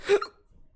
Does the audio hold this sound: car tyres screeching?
no